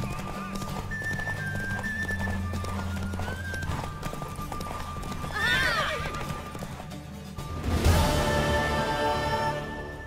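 Horses whinny loudly twice amid clopping hooves and a busy background of music and effects in The Witcher III: Wild Hunt video game, one neigh shrill and rising near the end.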